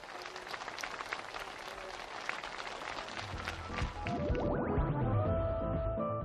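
Enthusiastic applause from participants at a housewarming gathering for new homes in Hyangsan County, a steady close crowd clatter for about three seconds before music swells up and takes over.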